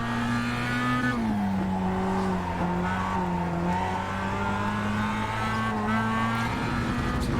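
Race car in the iRacing sim with a loud, steady engine note whose pitch dips and climbs through corners as the driver lifts off the throttle and reapplies it, tire noise underneath, close and continuous throughout.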